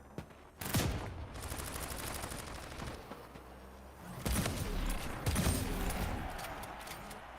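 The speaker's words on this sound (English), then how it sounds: "That's how you use the shotgun," Meridian shotgun blasts in the video game Splitgate 2: a few heavy bursts of gunfire standing out over a dense, busy wash of game sound effects.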